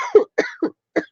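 Four short, dry coughs in quick succession from one person close to the microphone, each separated by a brief pause.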